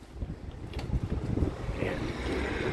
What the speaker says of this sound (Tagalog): Napakalakas pa po ng hangin dito sa labas.